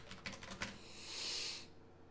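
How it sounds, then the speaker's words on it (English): Fingers tapping a few keys on a computer keyboard in quick succession, close and quiet, followed by a soft brief swish, no voices. "I'm gonna hit F3 and type in render region."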